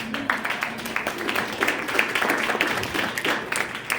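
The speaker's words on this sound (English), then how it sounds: "beat me to the applause now" Audience applause for a couple married fifty years at an awards dinner, a continuous crowd clapping at moderate volume with some voices murmuring underneath.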